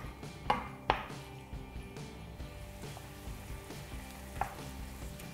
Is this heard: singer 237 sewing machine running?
no